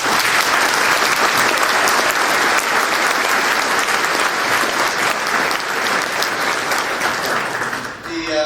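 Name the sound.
audience applause at awards banquet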